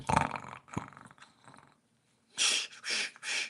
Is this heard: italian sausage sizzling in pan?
no